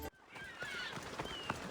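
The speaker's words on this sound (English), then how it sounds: "That's a nice horse, Socrates." Horse in Assassin's Creed Odyssey, a whinny with clip-clopping hooves over a steady game ambience, fairly close.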